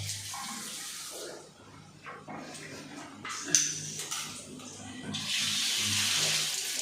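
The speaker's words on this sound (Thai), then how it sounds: "เดี๋ยวจะทำการล้างทำความสะอาดดูไปทีนะนะครับ" Water rinses a shower head clogged with mortar and sediment deposits, a steady splashing hiss that swells loudest near the end, with scattered clatter and handling noises and a dog barking faintly in the background.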